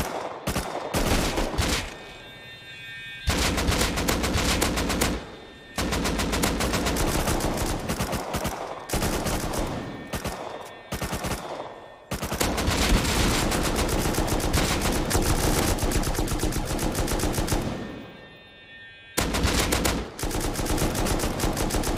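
Dense, sustained gunfire from bots in the online survival game Rust, with near-continuous automatic bursts and a few short pauses, loud and close throughout.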